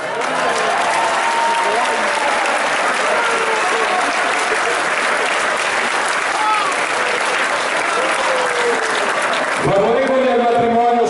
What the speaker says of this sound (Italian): Piccolissimo applauso